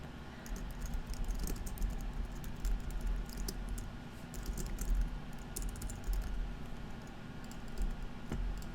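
Steady, fast clicking of computer keyboard keys as placeholder text is typed, close and continuous over a low room hum, with no talking.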